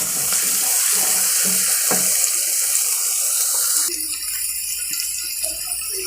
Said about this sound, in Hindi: इसको 2 मिनट तक मैं भून लेती हूँ ताकि इसका थोड़ा कलर भी चेंज हो जाए